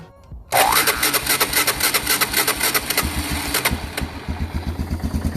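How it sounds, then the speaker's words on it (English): Honda 300 Fourtrax 4x4 ATV engine cranking over and firing up after a brief quiet moment, then settling into a loud, close, rapidly pulsing idle that steadies into a regular chugging rhythm. "2 months, and I'm about to start it up."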